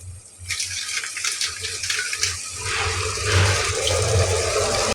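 Water poured over layered rice and masala for veg biryani, one and a half bowls per bowl of rice, a loud gushing pour that swells and runs steadily to the end.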